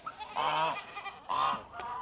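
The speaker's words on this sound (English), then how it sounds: "We're going to shut the gate because the geese, they are way too loud." Loud, nearby geese give two long, harsh honks a moment apart, with a brief quieter call between them.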